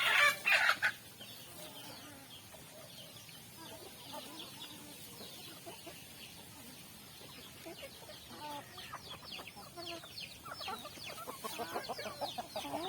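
Native chickens cluck and chatter softly all around, with a sharper burst of calls at the start and scattered clucks building again toward the end, heard with no voices.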